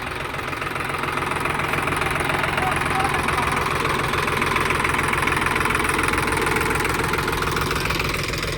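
A Sonalika DI 734 tractor engine idles steadily up close, a continuous mid-to-low rumble with a faint knocking pulse that holds at an even level throughout, with no speech over it.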